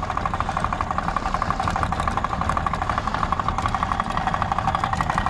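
Damaged engine of a small motorboat running with a steady, rhythmic knocking under a loud continuous mechanical drone, close and unbroken.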